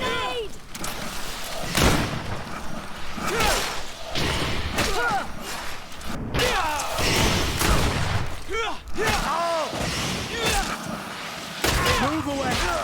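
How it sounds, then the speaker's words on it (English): Grenade explosion amid combat in the video game GreedFall, a burst of thumps and gunfire-like blasts in a busy fight, with voices shouting over the noisy action. "Watch out! Grenade!"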